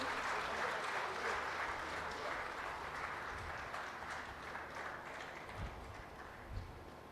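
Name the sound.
resounding applause for the Deputy Chief Minister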